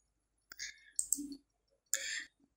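A computer mouse clicks on the crop button in Publisher software, giving a couple of quiet, close, crisp clicks separated by a pause in an otherwise silent room.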